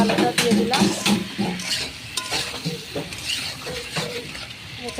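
Potatoes and onion fry in hot oil while a spoon stirs them, giving a busy sizzle with repeated scraping and clinking against the pan, close and fairly loud throughout.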